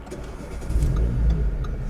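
A Renault Mégane RS 275 fitted with an aftermarket exhaust rumbles steadily up close, its low engine note swelling slightly midway and holding firm without any talk.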